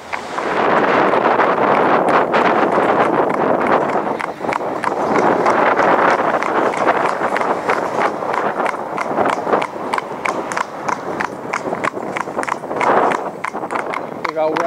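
A coloured Gelderlander mare in harness walks along, her hooves clopping in a steady rhythm while a big, rattly cart clatters behind her, with someone talking over the sound and wind buffeting the microphone.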